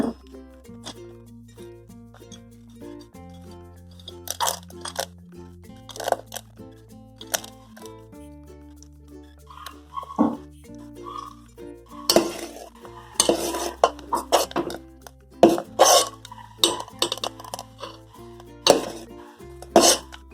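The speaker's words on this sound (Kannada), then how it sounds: "ಇದಕ್ಕೀಗ ಕರ್ದಿರೋ ಗೋಡಂಬಿ ದ್ರಾಕ್ಷಿ ಹಾಕೊಳ್ಳೋಣ." Fried cashews and raisins go into sabudana payasa (sago kheer) in a pot, with a spoon stirring and clinking against the metal in scattered, sharp bursts that grow busier toward the end, close by and without talk.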